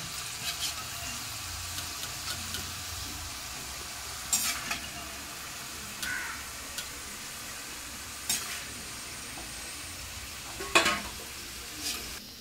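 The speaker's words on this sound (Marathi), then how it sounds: "हे बघा चांगले शेंगदाणे तेलात फ्राय झालेले आहे।" Peanuts fry in hot oil in a pan, giving a steady soft sizzle throughout, with occasional sharp scrapes and clinks of a spoon stirring against the metal.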